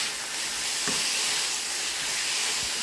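Mushrooms and green vegetables sauté in a pan, the mushrooms lightly salted, giving a steady close-up hiss and sizzle that holds evenly throughout with no voices.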